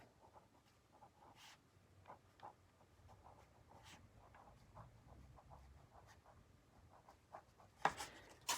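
A name and address being written by hand come through as faint, steady pen scratches and short strokes throughout, close and quiet, with a sharper knock near the end.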